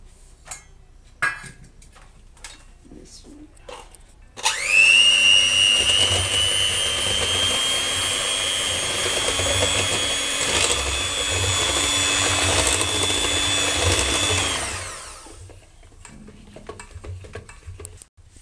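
Crepe batter of eggs, sugar, salt and oil is mixed with a loud, steady whirring drone lasting about ten seconds, framed by a few scattered clinks and taps before and after.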